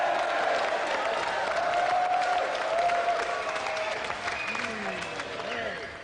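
Sustained applause from a television studio audience for a game show winner fills the room, with a voice speaking over the clapping, which gradually tapers slightly toward the end.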